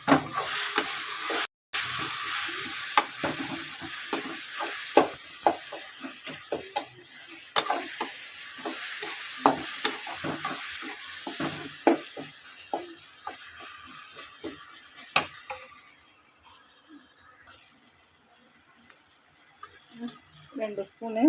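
Tomatoes sautéing in a pan for a coconut fish curry, a steady loud sizzle broken by frequent scraping stirs of a spoon against the pan, continuous and close.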